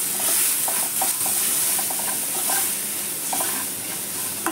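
Ground chilli powder, turmeric and cumin powder sizzle and fry steadily in a hot pan over lowered gas, a continuous close hiss with faint stirring scrapes and no talk.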